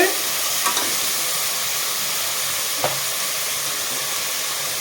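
Tomatoes frying in a pan for Thanjavur-style mutton biryani, giving a steady close sizzle with a few soft stirring clicks and scrapes throughout, no voices.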